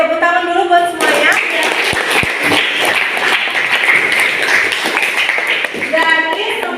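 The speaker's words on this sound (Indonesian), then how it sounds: "tepuk tangan dulu buat semuanya" A class of students bursts into loud, sustained group clapping for several seconds during a school science lesson, with children's voices just before and after.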